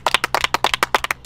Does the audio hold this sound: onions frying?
no